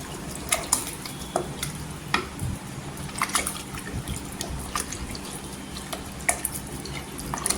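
Soybean pulao mixture is stirred with added water in a pot, giving wet sloshing and intermittent spoon clinks against the metal, fairly close and quiet, no speech.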